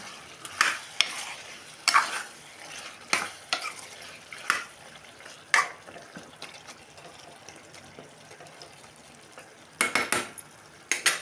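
Chicken fried with fresh mint in a pan, with a steady sizzle beneath repeated scraping stirs and clinks of a spoon against the metal, close and fairly loud throughout.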